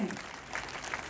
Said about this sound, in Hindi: तालियां जोरों की बजाइए, बहुत जोरों की, जितनी बजा सकते हैं।